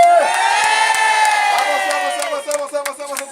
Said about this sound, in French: Encore plus de bruit! Allez, faites du bruit pour Marie-Josée!